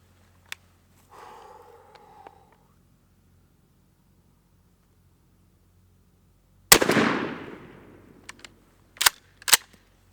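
Remington 870 shotgun firing a Migra 7/9 TSS shell: a single loud, sharp blast with a brief decaying echo, followed by a few distinct mechanical clacks. Faint speech is heard earlier.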